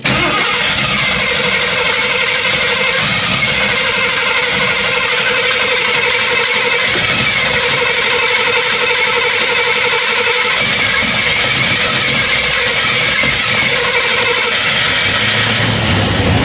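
A 52-year-old vintage Jeep Wagoneer with a carbureted engine running rich churns loudly and unevenly, its rough, continuous mechanical drone holding close and heavy for the whole stretch with no talk over it.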